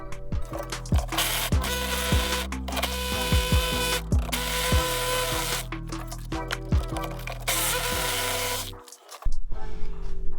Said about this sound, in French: je vais percer ici, faire un petit carottage pour pouvoir ressortir dans le grenier